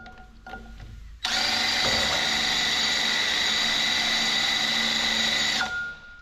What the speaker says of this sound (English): let's have a go with these drills